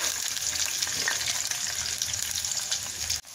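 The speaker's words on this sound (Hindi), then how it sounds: "प्याज हमने फ्राई कर लिए हैं तकरीबन" Roughly sliced onions frying in homemade butter for restaurant-style butter chicken, a steady close sizzle and crackle that holds throughout, ending with a brief clatter.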